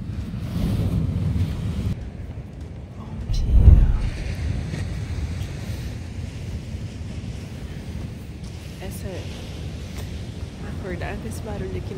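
Ocean waves wash onto a beach at six in the morning, a steady broadband rush with one louder surge and heavy wind buffeting against the microphone throughout.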